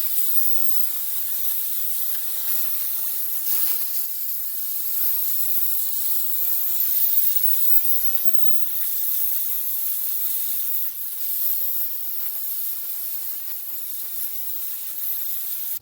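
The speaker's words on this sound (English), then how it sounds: "Then we'll plasma cut the center of this out." Plasma cutter cutting out the center of a steel pulley, a steady, loud high-pitched hiss of gas and arc running unbroken for the whole stretch with slight fluctuations, no talk.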